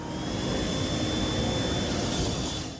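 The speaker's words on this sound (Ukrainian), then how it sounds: "це не мікроревіння двигуна, це пропелер" A loud, steady high-pitched whirring of a micromouse maze robot's small fast-spinning suction propeller, constant throughout with a thin whine on top.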